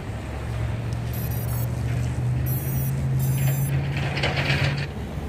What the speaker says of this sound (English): when I was hovering it, it was sputtering a little like it's doing now